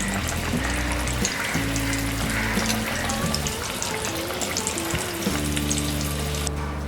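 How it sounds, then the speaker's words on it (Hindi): Mixed vegetable cutlets coated in crumbs fry in oil over a medium flame, a continuous loud crackling sizzle with faint clinks from turning them, and no talking. "हम इसे मीडियम फ्लेम में दोनों तरफ फ्लिप करते हुए फ्राई करेंगे।"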